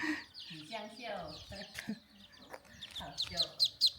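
Chickens clucking in a village of an old ethnic-minority settlement on a mountain, several short clucks and squawks close by, growing louder toward the end, with a person talking at the same time.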